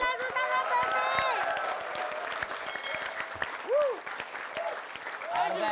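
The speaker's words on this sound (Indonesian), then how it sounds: "Tepuk tangan buat Tova Sultan Tesi" A crowd applauds and cheers in a comedy sketch setting, steady clapping throughout with people talking and shouting over it.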